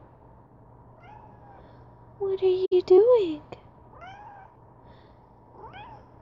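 A pet kitten meows several times, close and clear, with a long loud meow in the middle and shorter softer calls before and after it, while a person speaks briefly in between.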